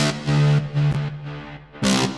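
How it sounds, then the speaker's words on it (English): Deep house synth bass shaped with amp, EQ, reverb and sidechain compression, playing a few sustained, pumping distorted notes in a short phrase, loud and alone. "so that's basically the bass sound."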